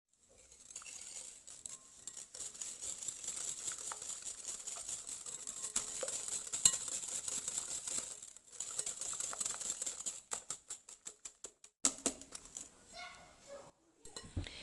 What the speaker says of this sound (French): 100 g de sucre et je fouette.